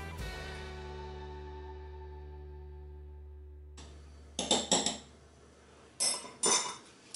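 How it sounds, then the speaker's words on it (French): A spoon stirs sugar into espresso in a cup. A long ringing tone fades first, then two quick bursts of bright metallic clinks come near and clear, with no talking. "Pour commencer, je vais mélanger mon sucre en poudre dans mon café."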